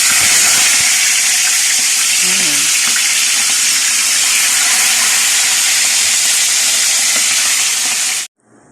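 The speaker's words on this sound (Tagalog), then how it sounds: "piprito muna namin yung bangus" Milkfish (bangus) frying in hot oil as the base for sinigang sa miso, a loud steady sizzle and hiss that fills the whole stretch, a faint voice briefly under it, then cutting off abruptly near the end.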